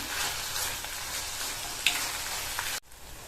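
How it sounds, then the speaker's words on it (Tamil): Tomatoes sautéing in a pan for urad dal tomato chutney give a steady, close crackling sizzle with light stirring scrapes, broken by one sharper tap, before the sound cuts off abruptly near the end. "இந்த உளுந்து தக்காளி சட்னிக்கு தக்காளி நல்லா வதங்கி வரணும்"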